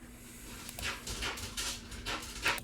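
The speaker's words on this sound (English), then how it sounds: "My dog might make some noise here" A dog indoors makes a run of breathy whimpers and panting noises, several rasping bursts over a low steady hum, fairly close and moderately loud.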